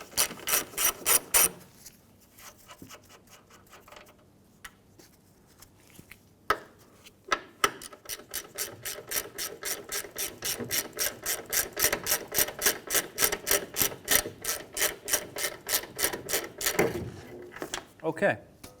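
A hand ratchet removes the upper strut nuts on a 2015-2019 Hyundai Sonata during a strut and spring replacement. A few short bursts come first, then long runs of rapid, evenly spaced clicks sound close and loud, with no one talking.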